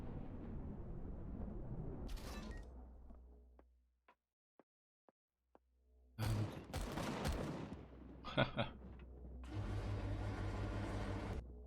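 Gunfire in the space survival game Empyrion Galactic Survival: bursts of rapid shots mixed with engine-like rumble, a quiet gap with a few isolated sharp clicks, then loud renewed volleys and sustained firing.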